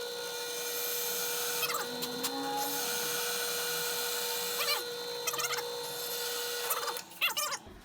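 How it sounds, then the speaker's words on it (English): A power drill bores a hole in metal that is being sprayed to keep it cool, a steady high whine running for several seconds, with short bursts of grinding and clattering as the bit bites and breaks through. "Let's just drill the hole."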